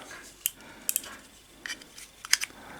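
A knife trims a small plastic peg from a TT Combat dungeon tile, heard as a few faint, sharp clicks and snips scattered over a quiet background.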